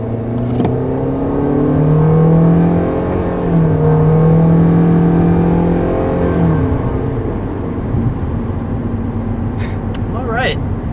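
A 2020 Toyota Corolla Hatchback pulls away from a stop, and its engine revs climb and drop through gear changes, loud from inside the cabin.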